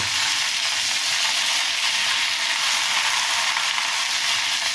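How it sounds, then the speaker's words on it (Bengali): Bottle gourd shoots and vegetables with lentil dumplings and turmeric fry in a pan, giving a loud, close, unbroken sizzling hiss that stays even throughout, with no voices. "এবার নেড়ে টেড়ে ঠিক করে নেব, একটু কষিয়ে নেব।"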